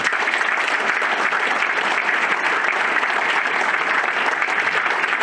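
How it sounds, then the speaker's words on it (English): A full audience at a livestock judging team ceremony claps in dense, loud applause that holds steady throughout without pause, and no voices stand out above it. "let's give Seth one more round of applause"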